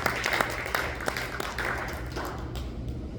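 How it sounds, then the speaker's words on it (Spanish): A church congregation breaks into applause during a sermon, a dense wash of many clapping hands with a few sharper claps standing out, holding steady and then thinning toward the end. "Dale un aplauso fuerte a Cristo"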